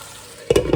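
Onions softening in a pan for beef cooking, with a quiet sizzle that suddenly jumps to a loud, close burst of frying and clatter in the final moments.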